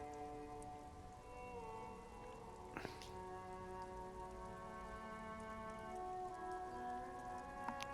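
Steady rain falls throughout in the game Disco Elysium, a continuous wash of drops on surfaces with soft ambient tones beneath and a couple of brief clicks near the three-second mark.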